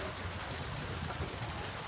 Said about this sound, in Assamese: পূৰা বৰষুণ মাৰি আছে বৰষুণ চাব পাৰে